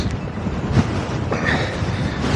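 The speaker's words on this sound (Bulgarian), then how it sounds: "Тук има много силен вятър." Strong wind buffets the microphone outdoors near a reservoir, producing a loud, constant rumbling roar with gusty surges throughout and no speech.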